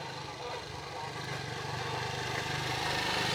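A motorcycle engine droning steadily nearby in a quiet mountain village, slowly growing louder as it approaches, with some faint voices around it.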